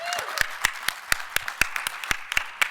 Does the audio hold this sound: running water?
no